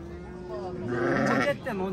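Sheep and lambs bleat loudly and close by at a livestock market in Talas, a wavering bleat swelling midway, with other farm sounds and voices in the background.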